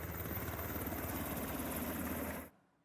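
Black Hawk helicopter flying on border patrol over the Alberta–Montana boundary: a dense, steady rotor roar that fills the clip, then cuts off abruptly near the end.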